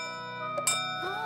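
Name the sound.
clock chiming in a cartoon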